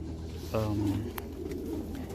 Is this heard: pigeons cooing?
yes